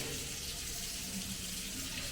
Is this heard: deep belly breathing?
no